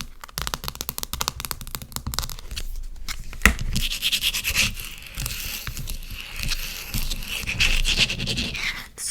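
Fingernails scratch quickly and steadily across a textured cell phone case covered in little crescent moons, a close, loud, rapid rasping that runs almost without pause and has no voice over it.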